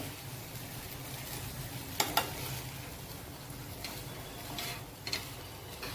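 A spoon stirs jowar khichadi with potato in a pan, giving faint scraping clicks and a few brief taps over a soft background sizzle.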